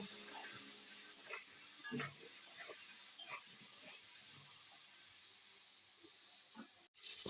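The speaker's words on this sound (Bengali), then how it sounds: "এখন ভালো করে নাড়িয়ে ভেজে নেব ফুলকপিটা" Cauliflower with a little turmeric sizzles in hot oil with a steady hiss, broken by scraping stirs of a utensil against the pan.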